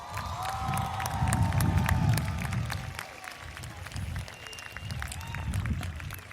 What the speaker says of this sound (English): Please give our teachers a round of applause